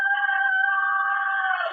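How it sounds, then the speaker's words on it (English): A cockerel crows once in a radio drama set in a small town just before dawn, a single clear, sustained call close to the listener, heard alone without any talk. "That was one of Mrs. Webb's cockerels."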